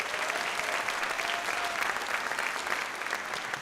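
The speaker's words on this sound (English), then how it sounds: "another round of applause for them" Audience applause at a school holiday band concert, steady dense clapping from a full hall that holds at an even level throughout with no voices standing out.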